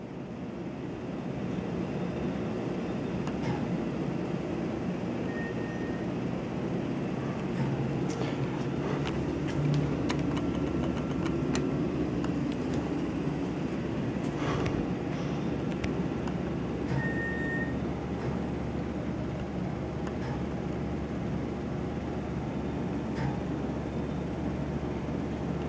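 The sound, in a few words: Westinghouse hydraulic elevator riding down to the basement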